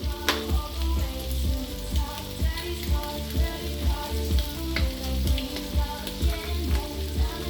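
Eggs fry on a barbecue hotplate with a close, steady crackling sizzle that pulses in a regular rhythm throughout.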